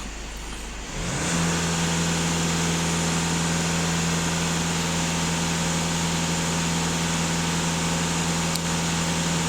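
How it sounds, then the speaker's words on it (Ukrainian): A VW Golf 2.0 TDI diesel engine jumps from near silence to a loud, steady, sustained high-rev roar at full throttle, heard close up with an even drone and no speech. "Але дам газ в пол, побачимо, що на обертах."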